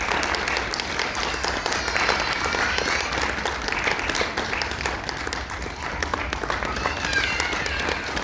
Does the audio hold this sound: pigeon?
no